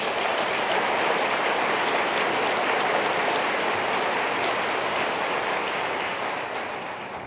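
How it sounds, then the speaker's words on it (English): A large conference hall audience at a cystic fibrosis plenary session applauds for partner institutions, a dense, steady wash of many hands clapping close and loud throughout, tapering slightly at the end. "Please give them a round of applause."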